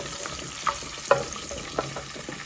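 Ginger and garlic frying in hot oil in a pot for Sylheti pulao, a steady close sizzle with a few sharp scrapes and knocks of a spoon against the pot.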